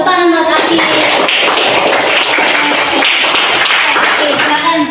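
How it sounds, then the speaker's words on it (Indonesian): Students in a classroom clap together for a classmate named Akil in a dense, loud burst of many hands, with children's voices around the start and end. "Betul, tepuk tangan buat Akil."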